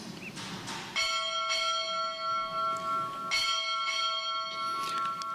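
A ship's bell rings out at a United States Navy change of command ceremony, struck in spaced pairs with clear metallic tones that ring on and decay between strikes, heard at moderate distance over faint room ambience.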